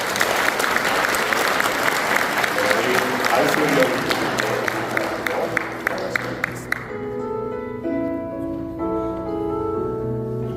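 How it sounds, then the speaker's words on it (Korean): Church congregation gives loud, steady applause for newly ordained deacons at a Union Church appointment service, running for about seven seconds before giving way to sustained organ or keyboard chords. "여러분께 인사하실 대로 큰 박수로 격려 부탁드리겠습니다"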